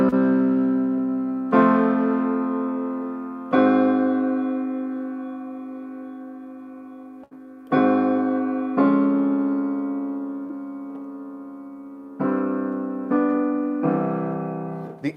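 An augmented sixth chord is played as a secondary dominant in a sequence of sustained instrumental chords, each struck cleanly and left to ring and decay, with a few quicker changes near the end and no talking.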